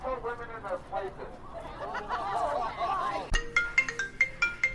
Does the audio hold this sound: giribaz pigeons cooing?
no